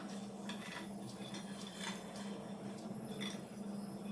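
Ghee-fried cashews and almonds being moved into a pot, with soft, quiet clinks and scrapes of a metal spoon against the cookware, repeated irregularly over a low background hum.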